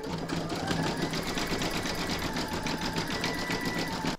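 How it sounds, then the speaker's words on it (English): An embroidery machine stitches a zigzag round on an in-the-hoop stacked pumpkin, a steady fast needle rhythm running close and loud for the whole stretch before stopping abruptly at the end. "pop your hoop back into your machine and stitch round number 6, and that's going to do the zigzagging down here"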